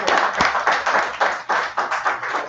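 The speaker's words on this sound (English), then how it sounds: "Give a round of applause." A round of applause from a group gathered for a religious class on the Feast of Unleavened Bread, loud and dense, with rhythmic claps pulsing together steadily throughout, near and continuous.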